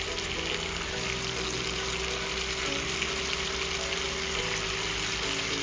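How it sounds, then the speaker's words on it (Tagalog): Chicken hotdog pieces and sliced mushrooms frying in a pan, a steady, fairly quiet sizzle with a continuous hiss throughout and no talking. "Haluin lang natin at ituloy pa natin yung pagluto ng mga 3 minutes."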